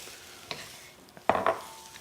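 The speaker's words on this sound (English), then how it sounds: "we can let it sit on the wok here just so it fries it up here" Udon noodles fry in a hot wok in a restaurant kitchen, with soft sizzling and a few sharp scrapes and clanks of a utensil stirring against the metal pan, brief and close, no talking.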